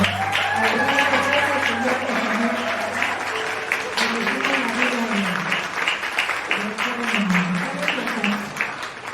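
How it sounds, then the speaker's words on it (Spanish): A large audience at a church conference claps loudly and continuously while a voice speaks over the applause and music-like tones run beneath it. "Para que se escuche este fuerte aplauso"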